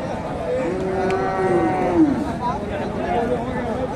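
A Friesian calf at a cattle market moos once in a drawn-out, rising-and-falling call, close by, with people talking around it.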